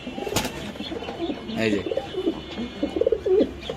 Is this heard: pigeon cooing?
yes